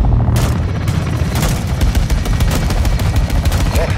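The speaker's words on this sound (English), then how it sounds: "Weapons hot for gun run." A gun run airstrike in the Modern Warfare 2 campaign: loud, sustained automatic cannon fire and booming impacts hammering continuously, close and dense throughout.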